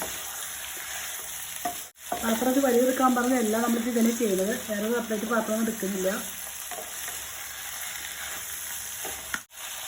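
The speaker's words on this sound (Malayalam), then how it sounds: "ചിക്കനെ ഒരു വെള്ള കളറാവുന്നവരെ ഇളക്കി കൊടുക്കുക കേട്ടോ" Chicken stirred and fried over high flame in a pan for a Kerala-style chicken rice, a steady sizzle with scraping stir strokes, close and moderately loud, while someone talks over most of it.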